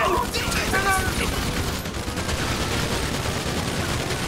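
A dense, loud burst of rapid gunfire from a GTA roleplay police standoff, with overlapping shots filling the whole stretch and voices shouting beneath it.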